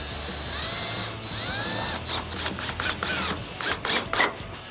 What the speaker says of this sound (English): now we're gonna reinstall our T30 torque screw, and then we've got our 4 T20s